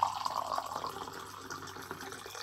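Hot water being poured, a soft, fairly quiet splashing and trickling that starts stronger and gradually settles into a steady running fill, with no talk over it.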